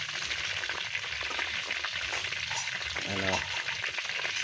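A pork head deep-frying in oil for crispy ulo ng baboy, a loud, dense, continuous sizzle and crackle close by, with a brief spoken word over it.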